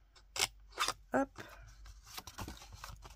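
Scissors snip through kraft paper in a few sharp, close cuts during a craft session, followed by softer paper handling and rustling.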